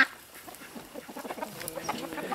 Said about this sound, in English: So chickens have a really, really nice area to play in.